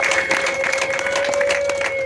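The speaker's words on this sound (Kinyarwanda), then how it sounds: "Bantiza amashyi menshi" A crowd at a Rwandan bride-asking wedding ceremony claps in dense, sustained applause, loud and close, with a steady tonal hum running beneath the clapping.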